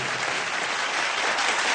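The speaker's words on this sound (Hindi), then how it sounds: "मैं चाहूंगा एसपी साहब के लिए जोरदार तालियां" An awards-show audience applauds a guest, a dense, even roar of clapping from a large crowd that holds steady and loud with no voices on top.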